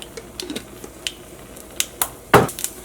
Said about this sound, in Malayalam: ഇനി ഫസ്റ്റ് നമുക്ക് കടുക് പൊട്ടിക്കാം